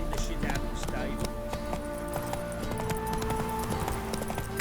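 Horse hooves clip-clop in The Witcher 3 video game, a steady run of soft, close hoofbeats with faint tapping, set against a dense background of game ambience and sound.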